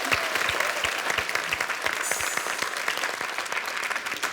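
A studio audience claps in sustained applause for a pastry chef during a cooking competition masterclass, a dense, steady patter of many hands close by with no speech.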